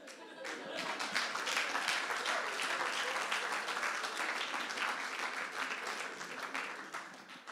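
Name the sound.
congregation applauding in church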